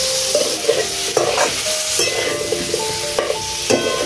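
Potato pieces frying in a pan for a village-style cashew vegetable dish, a steady close sizzle broken by repeated scraping stirs and clinks of a spatula, with no voices.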